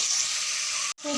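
Chicken frying with dried chillies in a pan gives a bright, steady sizzle that breaks off briefly near the end and then resumes with a lower rattle.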